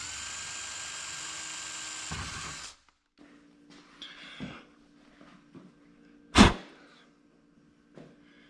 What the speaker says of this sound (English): take my 41 drill bit